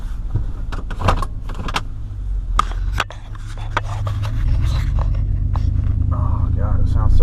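A 2013 Ford F-150 pickup idles steadily nearby, its low rumble holding throughout and swelling a bit louder toward the end, with rustling and scattered clicks and knocks inside the cab and a person speaking over it.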